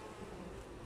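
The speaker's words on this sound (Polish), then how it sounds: "Jak tu jest po prostu w środku tego ula, to jest nabity ul, dosyć dużo pszczół jest" Honey bees hum inside a crowded, packed beehive, a dense continuous buzz that is soft and close with no voices.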